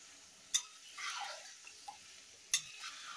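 Chicken sautéing in a pan over low to medium flame, with a soft sizzle, quiet stirring scrapes, and two sharp clinks of the spoon against the pan.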